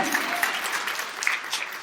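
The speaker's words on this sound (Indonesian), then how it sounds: "Tepuk tangan yang meriah untuk kemuliaan Tuhan." A church congregation applauds during a sermon, a brief lively patter of many hands clapping with a few sharper claps standing out, fairly close.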